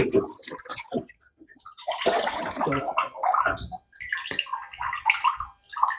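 Water is poured onto an evaporative cooling pad, giving close, irregular splashing and gurgling bursts with brief gaps.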